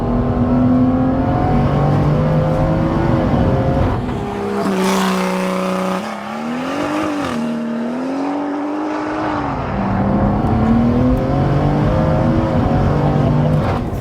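An 800 BHP BMW M240i accelerating hard on a B road, heard from inside as a loud, continuous engine roar that climbs through the revs, dips briefly at a gear change, then pulls again.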